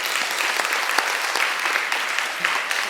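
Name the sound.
congregation applause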